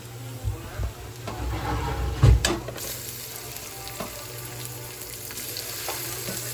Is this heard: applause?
no